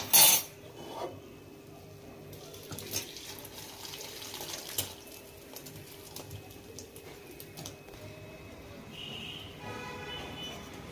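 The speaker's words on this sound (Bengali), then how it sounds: "সয়াবিনগুলো আমার সিদ্ধ হয়ে গেছে, এরপর আমি ঢেলে নিচ্ছি।" Water pouring and draining off boiled soybeans into a kitchen sink, a continuous soft splashing rush with a light clatter at the start, fairly quiet and steady throughout.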